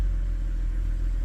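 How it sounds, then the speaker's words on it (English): A BMW 3 Series E90 car engine runs with a steady low rumble throughout, close and fairly loud, with no distinct starter crank and no voices. "Got to start the car up."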